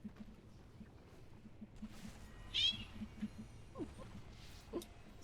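A house cat meows at a desk near a keyboard while a video game plays, a short clear mew in the middle and softer chirps later over quiet game sounds.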